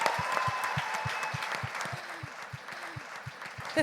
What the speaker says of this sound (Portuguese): Grande salva de palmas para todos nós.